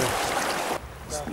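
Rushing whitewater pours over a drop on the Bistrița river near Vatra Dornei during rafting, a loud broad roar that cuts off partway through to quieter water sounds.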